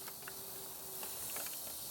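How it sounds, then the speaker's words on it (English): Tomahawk pork chops sizzle on a preheated high grill, a steady faint hiss with small crackles and pops throughout, alone without talk. "You can hear them sizzling nicely as they go on."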